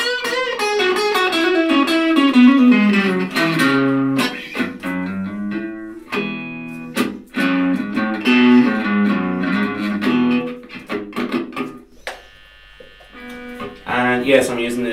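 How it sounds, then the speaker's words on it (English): An HSS Affinity Strat electric guitar through a Boss Katana Mini amp, heard as buzzy, slightly distorted picked notes and short chord stabs with gaps between phrases, fairly close and moderately loud. "You might hear the guitar in the background"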